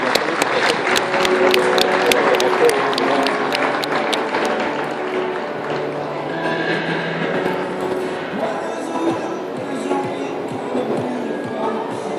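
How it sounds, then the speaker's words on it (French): An audience applauds at a horse show as a rider is thanked, brisk clapping strongest at first and then thinning out, while a presenter speaks over a loudspeaker and the crowd murmurs. "Je voudrais bien que vous applaudissiez en fait Armina au moins pour la remercier."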